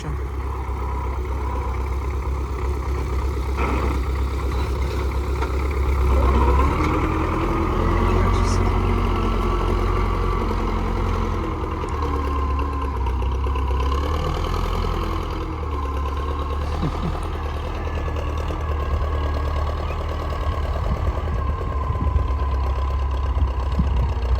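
An MTZ-80 tractor engine idles steadily in a field, a loud low throbbing drone with a slight rise in revs partway through. A voice talks faintly under it.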